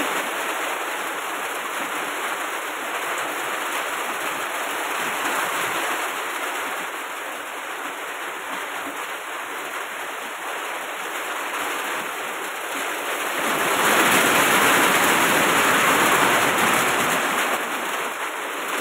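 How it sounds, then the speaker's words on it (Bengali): Steady rain falls as a continuous broadband hiss that swells heavier near the end, with no talking. "আর এবার তো বৃষ্টি শুরু হয়ে গেছে, আমাদের এখানে বৃষ্টি হচ্ছে।"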